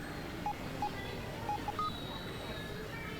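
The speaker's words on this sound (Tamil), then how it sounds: "சரவணனுக்கு ஒரு மிஸ் கால் கொடுக்குறேன்" A mobile phone places a missed call, sounding several brief, faint keypad tones in quick succession over soft background noise.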